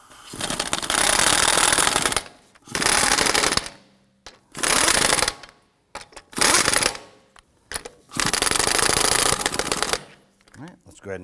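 Lug nuts being spun onto a Volvo XC90 front wheel hub, heard as five loud ratcheting bursts of a couple of seconds each, separated by brief pauses.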